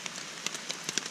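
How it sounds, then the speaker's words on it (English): Light rain patters on a hammock along the Appalachian Trail, soft scattered drops tapping close by in an irregular, faint rhythm. "the rain has calmed down"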